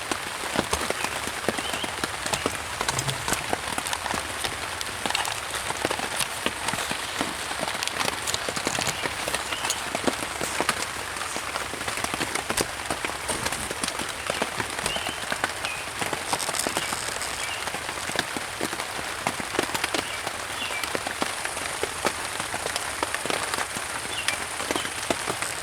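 Steady rain patters on a tent and the ground outside, dense and continuous with scattered sharper drops, heard alone without talk.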